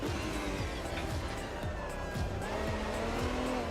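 A classic GT race car in Automobilista 2 drives hard, its engine roaring through repeated upshifts with rising and dropping revs, tire squeal mixed in, and a voice speaking faintly beneath.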